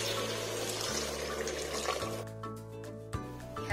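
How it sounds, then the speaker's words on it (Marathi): Five cups of water poured into a pressure cooker over rice that has been sautéed for chicken pulao, a close, steady splashing stream that thins and sputters toward the end. "चला आता आपण यामध्ये 5 कप आपण यामध्ये आता पाणी घालायचं आहे."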